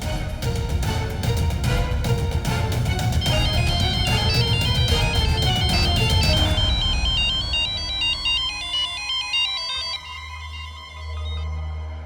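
A loud electronic phone ringtone plays a bright, repeating melody without pause, then thins out and fades near the end.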